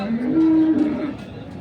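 A black bull at a sunny cattle market gives a short, deep moo up close, with crowd voices murmuring around it.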